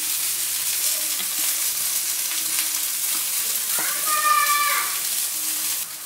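Oil heats and sizzles in a pan as a steady, close hiss, with a brief ringing metallic clink partway through; no one speaks.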